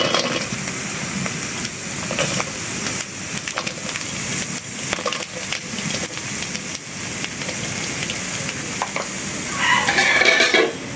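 Green chilies and garlic frying in a wok, a steady sizzle with scraping stirs and occasional clinks of a utensil throughout, louder toward the end.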